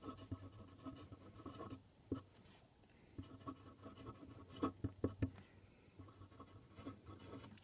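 A Sailor King of Pen fountain pen with a Naginata Togi nib scratches across paper in quiet, close strokes, soft scratching broken by a few sharper ticks as the pen lifts and lands at a normal writing angle.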